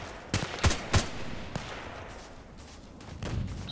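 An HK 417D assault rifle fires in a video game, several sharp single shots cracking in an uneven rhythm, loud and close against a quiet background, with a few softer shots near the end.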